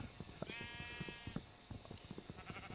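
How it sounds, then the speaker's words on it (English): Sheep bleating in a survival video game, a wavering bleat rising over a busy bed of rhythmic thumps and soft game noises, moderately quiet and close. "I hear these damn sheep, man."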